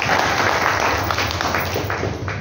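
An audience at a Pune book launch claps to welcome guests, producing a dense, steady patter of many hands that carries on throughout at moderate loudness.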